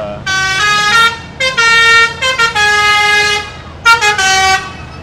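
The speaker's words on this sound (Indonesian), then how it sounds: "Tuh, ada bus lagi tuh." Loud, close bus horn honking in several bursts, long blasts broken by short toots, over a steady road rumble on a steep mountain road.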